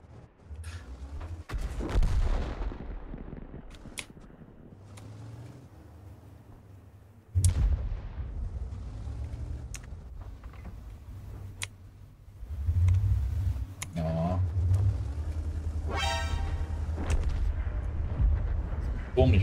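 Tank cannon blasts in World of Tanks boom out in several sharp, loud, widely spaced shots with rumbling engine noise between them, while players talk over the action.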